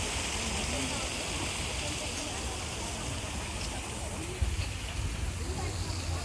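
Steady broadband rush of flowing water at a rose garden in Goyang City, Korea, continuous and moderately close, with a voice talking faintly over it.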